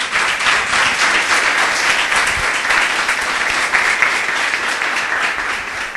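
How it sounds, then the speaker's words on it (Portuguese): Church congregation clapping in praise at a Portuguese-language service, a loud, sustained, even roar of many hands close by, holding steady for the whole stretch. "Louve ao Senhor com suas palmas."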